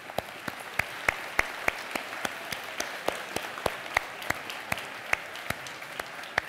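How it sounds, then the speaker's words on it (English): Scattered claps from a conference keynote audience, sparse and irregular at first and then building into steady applause, with no talking over them. "We want to do a round of applause."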